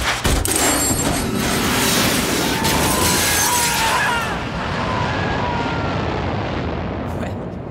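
Loud, roaring blast of a fighter jet as the ejector seat fires in a Hitman video game, a sudden burst followed by sustained wide rumbling noise that slowly eases off.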